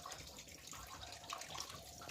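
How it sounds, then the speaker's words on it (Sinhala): Tap water runs steadily into a sink while dried fish are washed, a faint continuous splashing stream with small drips and no speech. "හොඳ පුතා කරවල හොදනවා."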